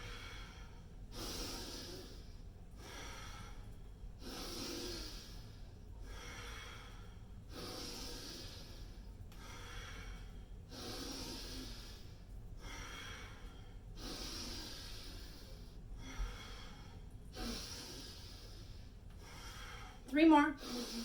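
Rhythmic audible breathing during yoga sun salutation movements, a slow repeating pattern of inhales and exhales roughly every two and a half seconds, close and soft over a quiet room, with a brief thump near the end.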